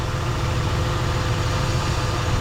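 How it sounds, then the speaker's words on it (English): A 1972 Holden HQ Statesman's 308 V8 with Holley carb and headers idles, a steady low hum with a deep, even rumble and no pauses, fairly close and moderately loud. "so it's got that really nice V8 hum on it"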